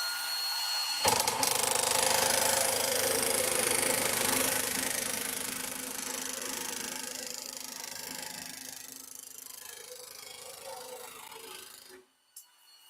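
A FEIN power tool cuts steadily and loudly for about eleven seconds with a continuous grinding, rasping tone, fading toward the end and then stopping, with no talking.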